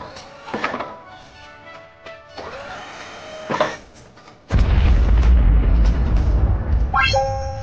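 A corn cannon fires in a video game: a few sharp thuds first, then a heavy booming blast that rumbles on for several seconds, ending with quick rising chime-like game tones.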